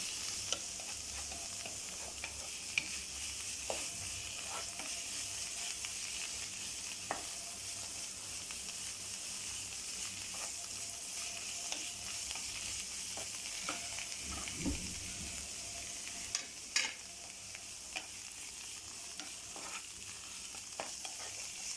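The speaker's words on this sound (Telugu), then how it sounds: "కొంచెం ఫ్రై అవ్వాలండి, కొంచెంసేపు ఫ్రై అవ్వాలి, పచ్చివాసన పోతే బాగోదు" Food frying in cow ghee sizzles steadily in a pan, with a constant bright crackle and occasional scraping clicks of a spoon stirring, close and alone without talk.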